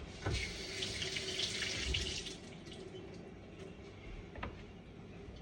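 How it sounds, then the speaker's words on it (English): Kitchen tap running water over filet mignon steak being rinsed, a steady faint splashing stream with irregular spatters as the meat is moved under it. "Take your meat, wash it off."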